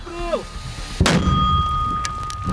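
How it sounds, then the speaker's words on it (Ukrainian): A single sharp, loud gunshot on a front line near Toretsk bursts out after brief muffled voices, followed by a long ringing, rumbling tail with a steady high tone. "пострел, Постріл!"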